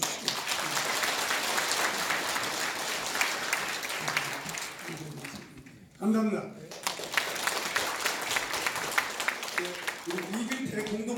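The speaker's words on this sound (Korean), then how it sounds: "감사의 뜻으로 박수 한번 쳐주시고" Applause at a National Assembly policy forum: many hands clap steadily and loudly, pause briefly while a voice speaks, then resume in a full wash.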